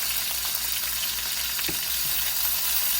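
Chicken pieces sizzle and fry steadily in a pan with no oil, a dense continuous crackle with a brief scrape as they are turned partway through.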